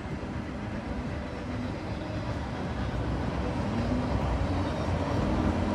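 Long freight train pulled by a single locomotive, M268 running eastbound from Detroit to Selkirk with 298 axles, heard as a constant, dense rumble and rolling roar of rail cars passing steadily.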